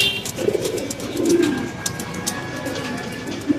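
A pair of Lahori pigeons kept with their eggs coo in low, throaty, repeated calls close by, with a few soft rustles and faint background noise between the calls.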